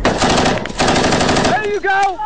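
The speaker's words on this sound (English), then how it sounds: "Hey, can you see where we're shooting?" Bursts of machine gun fire crack out loud and close during a firefight in an Afghan orchard, two sustained rapid strings separated by a brief gap, followed by shouting voices.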